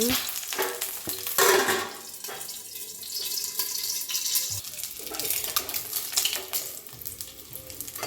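Boiled eggs fry in a pan for egg curry, spitting with a loud, busy sizzle, while a spatula scrapes and knocks now and then as the eggs are turned over.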